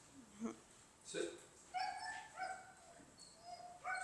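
A little puppy whimpers and yips in a garage, with several short high whines and squeaky cries spaced irregularly, close by and fairly soft, mixed with faint human voice.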